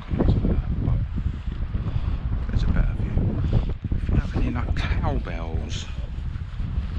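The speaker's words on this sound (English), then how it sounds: "The wind is coming across there." Wind gusts across an outdoor campsite beside a tarp shelter, roaring steadily into the microphone with low buffeting throughout, while a person speaks over it and a faint bird call chirps near the end.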